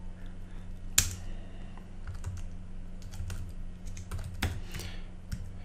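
Computer keyboard keys clicking in a soft, uneven run while a git clone command is typed into a terminal window, with one sharper tap near the start, close up and with no speech.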